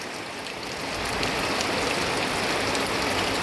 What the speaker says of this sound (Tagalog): Kaso umulan naman.